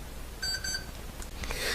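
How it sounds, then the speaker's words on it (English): An alarm clock goes off with a few rapid, high electronic beeps in a short burst, fairly faint against a quiet room background, with no talking. "that was my alarm clock just went off because I am supposed to be done"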